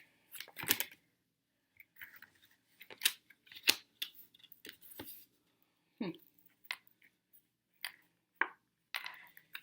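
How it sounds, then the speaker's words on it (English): Crisp papery slaps and riffles of tarot cards being shuffled, arriving in irregular bursts with short pauses between them, close and fairly quiet. "I'm going to keep shuffling."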